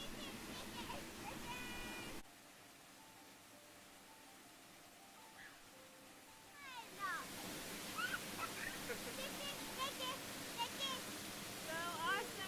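The waterfall at Mossy Cave in Bryce Canyon gives a steady, hissing rush that swells louder partway through, while people talk nearby over it.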